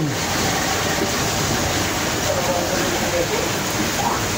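Heavy rain pours steadily and loudly during a rainy fishing outing in Zamboanga City, a dense unbroken hiss filling the whole stretch without pause.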